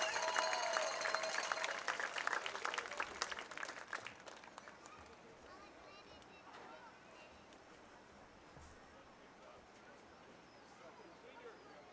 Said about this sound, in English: a final round of applause for our 2004 Oceanside Collegiate Academy senior class